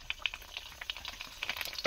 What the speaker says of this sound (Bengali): সব ফুচকাগুলো তেলেতে ভেজে নেবে।